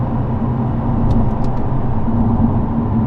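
A powerful car engine roars loudly and continuously, a dense low rumble holding steady as the vehicle pulls hard.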